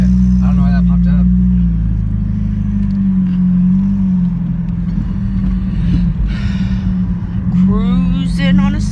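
A car cruising along a road on a Sunday, with a steady low engine and road rumble heard from inside the cabin as people talk over it.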